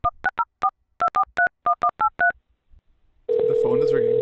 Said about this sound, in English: I will call a Vancouver number using the XLite soft phone.